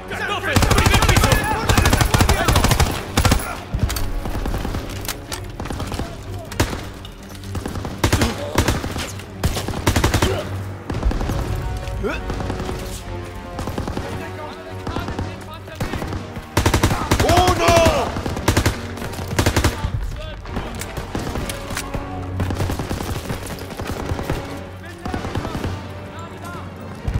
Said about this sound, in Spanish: ¡Ametralladora en el primer piso!